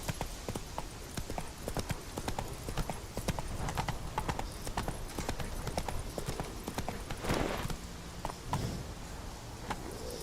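Roach, a horse in The Witcher 3, clip-clops along in a steady hoof rhythm, fairly near and loud throughout, with a soft background bed and a brief whinny-like sound near the end.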